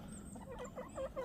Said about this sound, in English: So we're approaching the chickens now, as you can see.